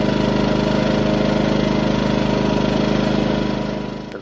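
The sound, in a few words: Ryobi portable inverter generator engine running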